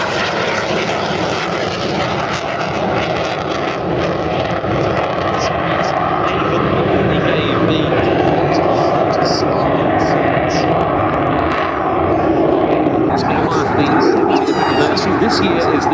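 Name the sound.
aircraft flying past at an airshow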